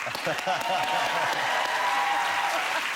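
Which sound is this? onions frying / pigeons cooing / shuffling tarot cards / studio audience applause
studio audience applause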